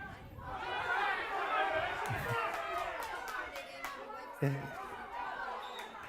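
A crowd roars and chatters throughout a camogie match, Limerick versus Cork in the Munster senior final, forming a steady broad swell with a few sharper shouts and a commentator speaking over it.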